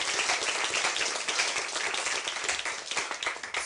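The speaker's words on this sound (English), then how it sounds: "A round of applause for the question and answer." Audience applause following the question-and-answer segment of a debate on the historicity of Jesus, a dense, steady wash of many hands clapping at moderate level throughout, with no talk over it.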